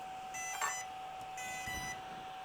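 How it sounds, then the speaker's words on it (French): Armed-status beeps from the speed controller of a 1/5-scale Outcast EXB RC car on a 16S battery: two short, faint electronic tone bursts, the second longer, over a steady background hum. "Ça, c'est le son de je suis armé."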